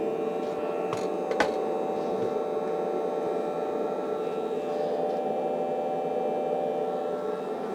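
A smoke machine that vaporises baby oil runs steadily nearby, giving a constant mechanical hum with a couple of faint clicks and no talk.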